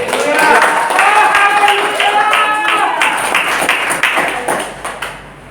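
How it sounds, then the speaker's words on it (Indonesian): Church congregation applauding loudly, dense overlapping clapping that thins into scattered final claps as it dies away. "Beri tepuk tangan buat Yesus."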